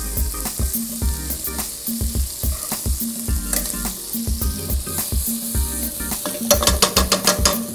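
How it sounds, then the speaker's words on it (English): Shrimp fry loudly in a hot pan, a dense close sizzle with rhythmic scraping and stirring, the crackle growing busier near the end, no voices. "Turning my shrimp."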